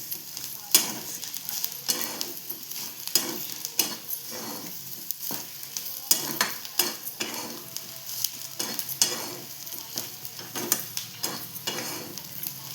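Ivy gourd (tondli) sautéing with chili powder in a hot pan, a continuous soft sizzle broken by repeated scraping stirs of the spatula at an uneven rhythm.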